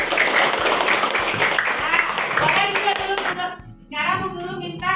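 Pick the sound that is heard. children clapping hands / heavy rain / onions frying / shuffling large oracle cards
children clapping hands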